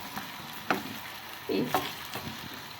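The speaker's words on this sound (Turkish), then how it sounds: "Şimdi kavuruyoruz birlikte" Onions, potatoes and carrot sauté in a pan for a green lentil and bulgur pilaf, with a soft, steady sizzle and a few scraping stirs of the utensil, fairly quiet and close.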